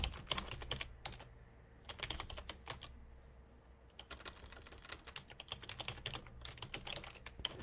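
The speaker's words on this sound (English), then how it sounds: "I'm going to type this out now. Typing." Rapid typing on a computer keyboard, irregular bursts of quiet clicking keys with short pauses between them, close and alone.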